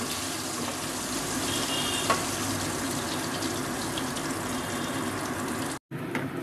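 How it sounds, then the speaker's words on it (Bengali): Paneer lightly frying in a pan over a low flame, giving a steady, even sizzle close up with no talk, cut off briefly near the end. "দেখো পনিরগুলোকে এইভাবে আমি হালকা ভেজে নিচ্ছি।"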